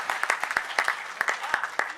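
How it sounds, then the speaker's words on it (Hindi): Scattered, uneven clapping from a poetry festival audience, with sharp separate claps spread across two seconds rather than a full ovation, fairly close and moderately loud. "एक बार महोत्सव दे तालियों का।"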